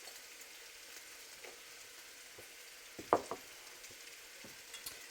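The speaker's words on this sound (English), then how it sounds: "I did turn it down so you can hear, actually, it's not sizzling as much" Soft, steady sizzling of chicken frying in a pan on lowered heat, with a few sharp clicks and scrapes of stirring around the middle; no one speaks.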